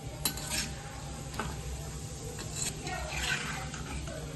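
Chana dal frying in oil in a pan, a soft continuous sizzle with occasional utensil clinks and spoon scrapes, fairly quiet and close.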